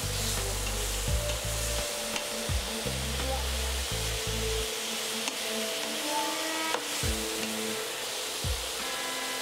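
Tomatoes sizzle in a hot pan while a utensil scrapes and stirs them in repeated bursts, a pinakbet being cooked, with the frying hiss steady between the stirs.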